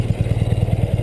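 An R75/5 motorcycle engine idles slightly high, thumping in a quick, even pulse, close and steady with no other sounds.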